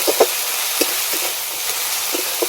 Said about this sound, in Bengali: তো সমস্ত কিছু মশলা আমি ভালো করে কষে নেব।